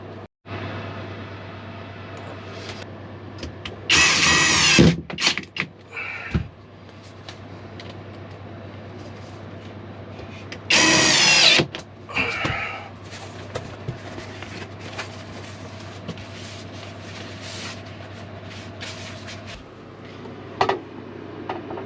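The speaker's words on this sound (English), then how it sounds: "Let's just do 2 screws." Cordless power drill driving two screws into under-bed storage panels in a Fiat Ducato camper conversion, two loud whirring bursts a few seconds apart, with quieter handling noises and a steady low hum between them.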